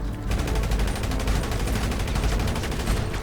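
Rapid automatic gunfire from the video game GTA V rattles in a dense, continuous burst of evenly spaced shots, loud and close, with no pauses.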